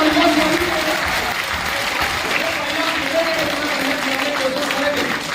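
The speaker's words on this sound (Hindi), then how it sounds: "तालियां" Audience applause at a Hindi poetry recital in Barabanki, a dense, sustained crowd clapping at steady loudness for several seconds with a voice faintly over it.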